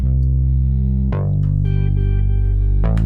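A thick, sustained synth bass with a rich harmonic stack, retriggered twice with a sharp attack, playing loud and alone.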